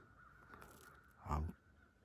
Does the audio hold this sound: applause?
no